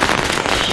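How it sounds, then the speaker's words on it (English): A firecracker in the multiplayer game Assassin's Creed 3 Manhunt bursts in a dense, crackling rush of rapid pops, loud and brief, filling the moment. "Firecracker."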